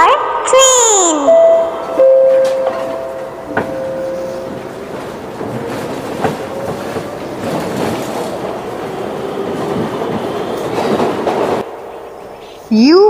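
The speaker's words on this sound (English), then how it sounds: "T for train." Train horn blasts at the start, followed by a steady rumble of railcars rolling past with clickety-clack, loud and close, with a brief child-like voice near the end.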